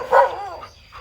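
A neighbor's yard full of dogs, one giving a sharp, close bark followed by softer yips and a fainter second bark.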